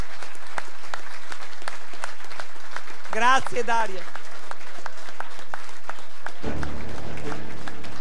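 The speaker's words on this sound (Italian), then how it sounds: "un applauso" Applause from an audience at a political conference on Veneto independence, continuous crowd clapping with someone speaking briefly over it in the middle and a deeper voice joining near the end.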